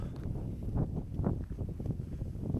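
Gusty wind buffets the microphone in low, rumbling bursts outdoors in a village in Trabzon, Turkey, rising and falling over a couple of seconds with no voices.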